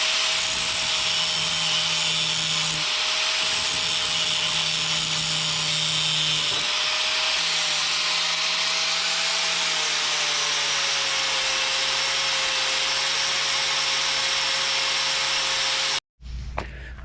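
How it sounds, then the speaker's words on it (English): Steady abrasive whine of a flap wheel grinding down welds on RV front fender metal, continuous and loud with slight pitch wavering, then stopping abruptly near the end. "I got those welds ground down and cleaned up with the flap wheel."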